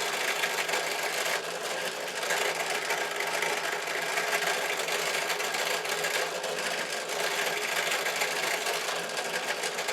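A small drill bores stitching holes through a leather sword grip, a steady close mechanical whir running continuously and loud throughout.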